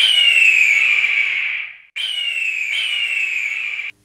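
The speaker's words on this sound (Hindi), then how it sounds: "सुने पहले बाज की आवाज़" An eagle gives two long, piercing screeching cries, the first fading away before the second follows, loud and clear with nothing else underneath.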